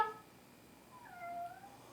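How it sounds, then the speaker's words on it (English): A house cat in a home kitchen gives one faint, drawn-out meow with a rising then falling tone, heard alone over low room hiss. "The kitty cat's coming to join us today."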